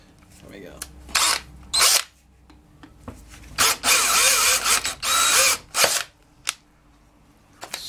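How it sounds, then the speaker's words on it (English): A power drill bores out rivets on a Homelite UT22600. It comes in several short, close whirring bursts, then a longer sustained run, with gaps of quiet between them. "I think we can just probably drill it out"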